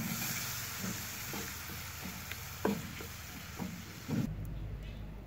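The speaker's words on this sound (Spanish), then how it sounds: "La cebolla ya está bien dorada. Le voy a poner" Tomato added to browned onion frying in a pan, a steady close sizzle with faint stirring scrapes and clinks, fairly quiet.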